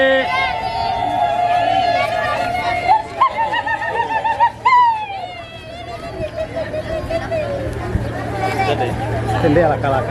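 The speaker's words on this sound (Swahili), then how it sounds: "Vigelegele." A crowd ululates at the close of a church blessing, with high, warbling trills rising and wavering over a busy hubbub of chatter and movement.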